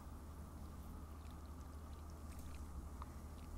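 A broken shower in The Sims 3 video game sprays water in a steady, faint, continuous hiss with no talking over it.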